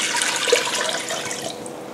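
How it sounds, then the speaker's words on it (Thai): Plain cold water pours steadily from a container into a pot of pork ribs, a continuous close splashing rush that tapers slightly toward the end. "หลังจากนั้นนะคะก็เอาตัวน้ำเนี่ยน้ำเปล่าใส่ลงไปนะคะ"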